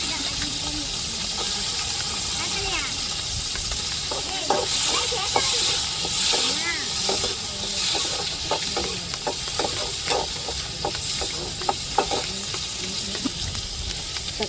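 Chopped onions sizzle and fry in a pan after curry leaves, with steady hissing, occasional stirring scrapes and clicks, fairly close and constant throughout.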